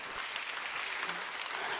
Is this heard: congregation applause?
yes